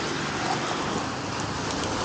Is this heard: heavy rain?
yes